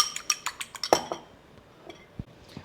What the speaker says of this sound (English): whisk up that egg a little tiny bit